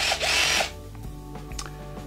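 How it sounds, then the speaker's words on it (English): An IKEA FIXA 14.4V cordless drill bores into a piece of wood in first gear, a short loud whirring burst up close that stops abruptly, followed by faint handling clicks. "let's try with drilling on the beginning"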